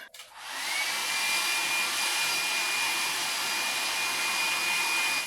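A hair dryer borrowed in a hotel room in Peru blows with a steady, loud, even whoosh after it switches on. It holds for about five seconds with a faint whine and no voices.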